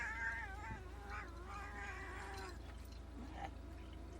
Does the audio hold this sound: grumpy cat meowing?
yes